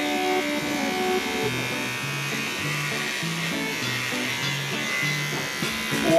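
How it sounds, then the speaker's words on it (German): An electric razor buzzes steadily through a shave, a close, continuous motor hum with shifting pitch as it moves over the skin, running alone for several seconds. "Der T-Bone rasiert sich jetzt doch."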